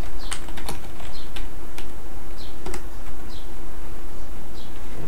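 Keys clack on a computer keyboard during spreadsheet work, a loud, close, uneven run of taps with short pauses and no talk.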